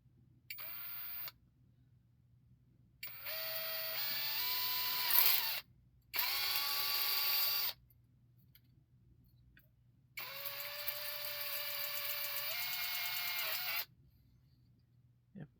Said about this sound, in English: Let's drill out these other ones.